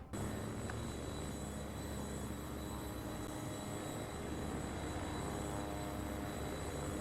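A train running in the rail-building video game Worldwide Rush, set in Panama: a continuous loud rumbling, rushing roar with steady wheel noise throughout, no talking.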